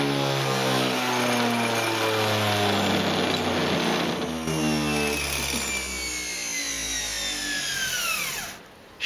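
A wobbly belt sander drive wheel spins up to high speed, a loud continuous mechanical whir with rising whine and rattling vibration from the shaking wheel, then winding down near the end, with no talking.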